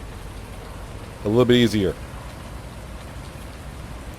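Steady, even rain hisses throughout a Farming Simulator 19 game scene. A voice speaks briefly over it.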